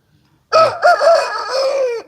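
A rooster, a fighting cock, crows once loudly and close, a single drawn-out call of about one and a half seconds with no one talking.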